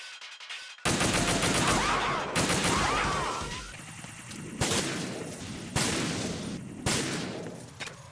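Gunfire in the video game Metal Gear Solid 2: a loud burst of rapid automatic fire, then several separate single shots spaced about a second apart, each one ringing out briefly.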